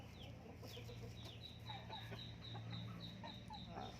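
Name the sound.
five-month-old Asil rooster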